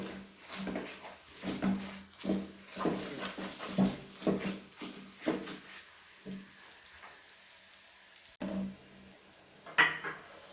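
Sooji halwa roasting in ghee in a pan, with repeated scraping and stirring strokes of a spoon in an irregular rhythm, fairly quiet and close, over a faint sizzle.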